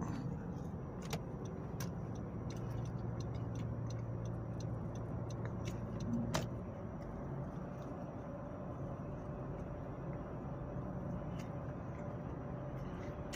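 Steady road noise and engine drone from inside a car on a highway, driven slowly in the morning, with a continuous low rumble, occasional faint ticks and a brief bump midway, no talking.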